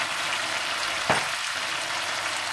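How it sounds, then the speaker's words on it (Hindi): Potatoes with tomato, chili powder and turmeric fry in a pan, giving a steady close sizzle with one brief louder stir or clatter partway through. "और नमक डाल दें और इन्हें भी थोड़ा सा भून लें।"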